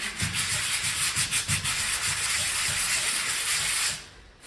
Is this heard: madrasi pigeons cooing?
no